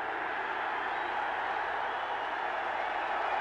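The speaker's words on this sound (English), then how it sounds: "crowd making some noise, trying to help out the defense" Stadium crowd at a 1992 Hawaii at Oregon college football game produces a steady, dense roar from the stands, continuous and far-off with no distinct voices.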